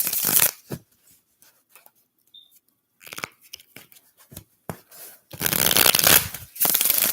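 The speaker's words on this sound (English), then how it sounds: "I'll pull some more cards to clarify" Tarot-style cards shuffled and pulled for a reading, with loud close riffling bursts at the start and in longer stretches near the end, broken by quieter flicks and rustles between them.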